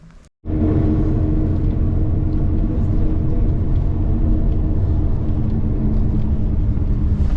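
Steady loud rumble from inside a bus travelling on a road in Serbia, a constant engine and road drone that starts abruptly and continues unbroken.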